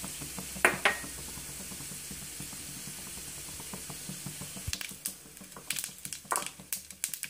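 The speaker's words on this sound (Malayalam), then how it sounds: "കടുക് പൊട്ടി." Mustard seeds spatter and pop in hot oil over a low flame while kadala curry is being made, giving soft sizzling with scattered sharp crackles that grow busier near the end.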